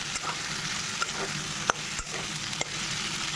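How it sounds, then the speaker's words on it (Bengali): Cauliflower florets tossed with spices in a hot pan give a steady close sizzle of frying, broken by a few sharp spatula scrapes and knocks as they are stirred, with no talking. "ফুলকপিটা যখন দিয়ে দিয়েছি মশলার সঙ্গে ভালো করে কিন্তু মিক্স করে নেবো"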